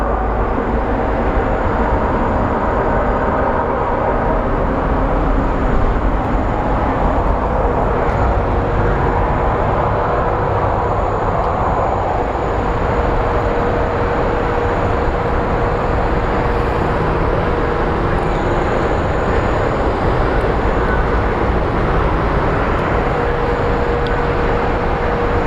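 A Southwest Airlines airplane at Phoenix Sky Harbor International Airport, Arizona, produces a continuous loud jet roar with broad rumbling noise that holds steady throughout, and no voices are heard.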